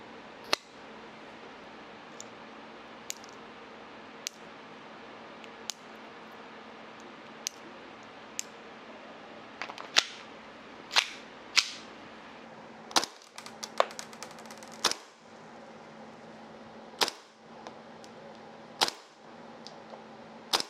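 A brand-new gas blowback airsoft pistol, limited to under 0.2 joules, fires about fifteen sharp, dry snaps. They come at irregular intervals and cluster more tightly in the second half, each a quick crack over a quiet indoor background.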